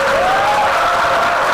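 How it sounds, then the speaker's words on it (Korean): Audience applause welcoming a guest at a seminar marking World AIDS Day, dense and steady clapping throughout, with a faint tonal whine running beneath it. "박수로 환영해 주시기 바랍니다."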